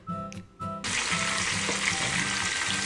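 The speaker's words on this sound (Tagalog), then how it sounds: "kumukulo na po yung mga nilagay kong okra, sitaw, kalabasa doon sa aking iginisang sahog" Okra, yardlong beans and squash bubbling in a pot of sautéed base for pinakbet, a loud steady sizzle and simmer that starts abruptly after a few quieter clinks and stirring sounds, close up with no voices.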